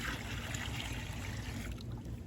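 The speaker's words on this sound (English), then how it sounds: "I continue adding water until I reach the second and final mark." Water pouring steadily into a pesticide mixing bucket, a continuous trickling wash with low rumble underneath, close and moderately loud, no talk.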